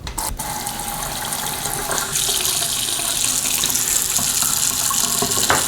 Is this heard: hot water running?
yes